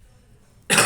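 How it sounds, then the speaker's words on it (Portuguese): A single short, loud cough bursts out near the end after a moment of near silence, close to the listener and unaccompanied. "Isso tossi."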